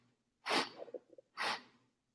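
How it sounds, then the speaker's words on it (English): Two strong, breathy rushes of air, a deep inhale followed after a short gap by another, close and alone during a guided morning breathing drill. "Take one big breath in"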